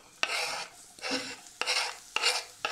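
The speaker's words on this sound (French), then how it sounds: "On va faire revenir l'oignon." Diced onion sautéing in oil in a frying pan, heard as four bursts of sizzling and scraping as a utensil stirs the pieces, each stroke starting with a sharp click against the pan, close and fairly loud.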